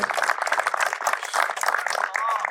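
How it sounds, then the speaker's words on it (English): Applause and crowd noise for a speaker at a facility groundbreaking ceremony, steady clapping heard up close throughout. "Let's give Dwayne a big round of applause."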